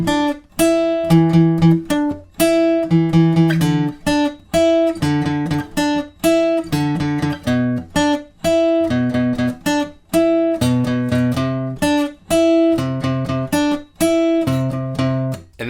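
A full riff rings out on guitar, clean and up close, repeating bursts of staccato plucked notes and chords in a tight funky rhythm with short pauses between phrases, no voices.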